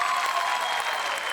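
A stage-show audience at a Marathi comedy program claps, making dense, even applause that holds steady and fairly loud for a brief moment.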